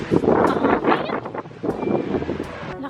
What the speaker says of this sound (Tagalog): Mahangin siya, besh. Mahangin sa labas.